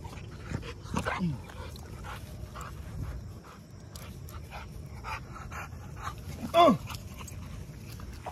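An American Bully dog pants and lets out short whimpers and yips close by, scattered through the clip, with a sharp cry near the end and faint human voices in the background.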